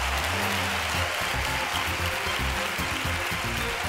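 A studio audience at a Spanish talent show audition claps steadily and loudly, a dense sustained wash of applause with no voices over it.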